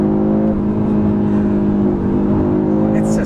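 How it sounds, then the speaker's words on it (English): A 2022 Audi RS3 accelerating hard, its engine a loud, steady, droning roar heard from inside the cabin, holding a sustained tone throughout with a slight shift partway through. "It's just so savage too, the way it accelerates."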